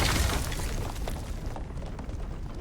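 Grenade blast in the video game Itorah, a loud broad boom that opens the clip and decays into a sustained rumbling, crackling wash of debris and noise.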